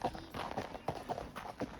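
A horse's hooves clip-clop on a Colorado mountain trail in a quiet, irregular series of soft thuds, close but faint, with no clear talk.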